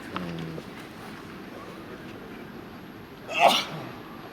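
A single short sneeze bursts out, fairly distant, at a Roland-Garros tennis semi-final, over a quiet steady background hum.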